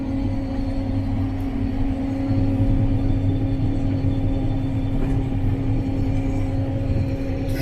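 A combine harvester takes a full cut of grain during the summer harvest, a steady, loud, low engine drone and rumble with a constant mechanical hum heard from inside the cab, without talk.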